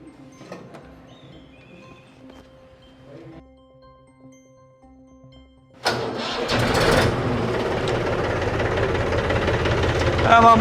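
A tractor engine cranks and catches in the open, turning over into a loud, steady running roar after quieter moments with background voices.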